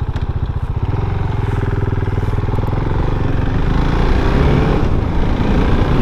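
KTM Duke 690 R motorcycle fitted with a windshield pulling away, a loud close single-cylinder thump that starts as a steady idle-like pulse, then builds into a throatier, busier engine note as the bike accelerates.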